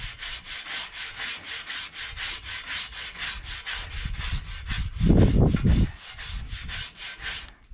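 Steel wool scrubs rust from pitted vehicle chrome in rapid back-and-forth strokes, a close, rhythmic scratchy rasp that grows heavier and harder for a moment midway before settling back to steady rubbing.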